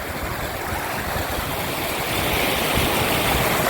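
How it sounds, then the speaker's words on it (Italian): A fast-flowing stream rushes down into the lake at Sankt Moritz, a broad continuous roar of churning water that swells slightly louder toward the end, heard alone without talk. "Qua abbiamo un corso d'acqua, guardate con che velocità che viene giù"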